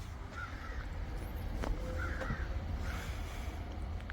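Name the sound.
birds calling outdoors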